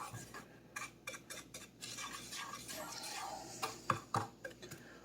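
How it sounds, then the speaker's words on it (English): Spoon or utensil breaking up packed lumps of sugar in homemade jerk seasoning inside a container, a series of quiet scraping taps and clinks in an irregular rhythm, close and faint. "I'm just trying to break up some of the lumps of sugar that I packed in there so tight"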